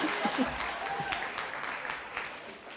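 Graduation audience applauding at a winter commencement ceremony, a steady wash of many hands clapping throughout, with a few voices murmuring and calling out within the crowd noise.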